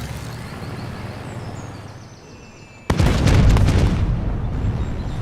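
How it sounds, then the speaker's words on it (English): An airstrike in Humankind lands as a sudden loud blast after a quieter stretch of ambient game sound, then a heavy rumbling roar that keeps going. "Airstrike time."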